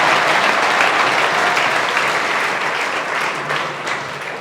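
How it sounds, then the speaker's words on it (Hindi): Children in a classroom break into loud, sustained applause, a dense close burst of clapping that holds steady for several seconds and tapers slightly at the end. "जोरदार ताली बेटा"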